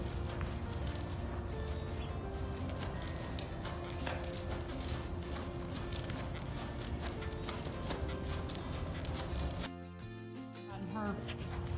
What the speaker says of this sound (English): Her number one horse, Bo.